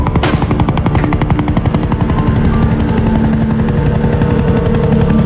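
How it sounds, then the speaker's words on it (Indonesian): A helicopter in a scene from the film Rebel Ridge beats steadily and loudly, its rotor chop thumping in a fast, even rhythm close at hand with no voices over it. "terlihat sebuah helikopter yang akan membawanya"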